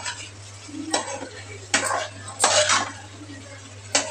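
Mutton leg roast stirred in a pan with a spoon, a few short scraping strokes at irregular intervals over a steady low hum, fairly close.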